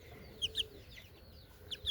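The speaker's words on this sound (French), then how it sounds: "C'est une petite poule, là." A small hen gives two pairs of short, sharp clucks close by, with quiet pauses between them in a farmyard.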